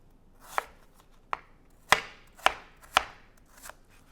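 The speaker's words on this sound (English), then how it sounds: "I'm just going to give it a quick chop into nice little even pieces." Knife chopping an apple into small even pieces on a board, six distinct sharp chops spaced roughly half a second apart, close and clear with no talk.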